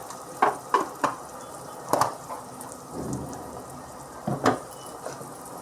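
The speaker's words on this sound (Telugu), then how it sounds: "పచ్చి వాసన పోయిన దాకా కలపాలి." Ginger paste being stirred into a flat bean curry in a pan, with soft scraping and a low simmering sizzle broken by several sharp spoon knocks against the metal.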